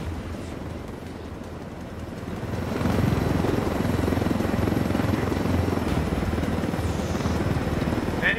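Aircraft approaching in Ghost Recon Wildlands, a rotor-like thrumming drone that swells louder about a third of the way in and then holds steady and close.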